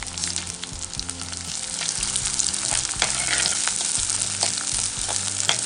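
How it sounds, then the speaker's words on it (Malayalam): Sliced small shallots sautéing in a pan for Palakkadan masala curry, a steady close sizzle and frying crackle with low rhythmic scraping of stirring throughout, no voices. "15-20 ചെറിയ ഉള്ളി വട്ടത്തിൽ മുറിച്ചത്, അതും കൂടി ഇട്ടിട്ട് നന്നായിട്ട് അങ്ങോട്ട് വഴറ്റുക."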